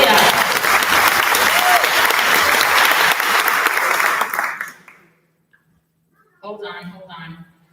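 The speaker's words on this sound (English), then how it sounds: "So give a round of applause to Julia." A concert audience at a symphonette concert claps loudly and densely for a student, then the applause fades to silence before a voice begins speaking near the end.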